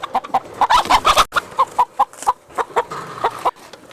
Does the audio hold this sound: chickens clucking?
yes